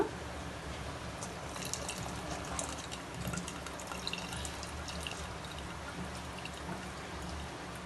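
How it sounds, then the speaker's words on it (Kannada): Soaked tamarind juice is poured into a pot of rasam, a faint, steady watery trickle and splash in a quiet kitchen. "ಹುಣಸೆ ಹಣ್ಣನ್ನ ನೆನೆಸಿಟ್ಟಿದ್ವಲ್ಲ ಅದನ್ನು ಚೆನ್ನಾಗಿ ಸ್ಮ್ಯಾಶ್ ಮಾಡಿಕೊಂಡು ಅದರದ್ದು ರಸನ ಇದಕ್ಕೆ ಹಾಕ್ಕೊಳ್ಳೋಣ"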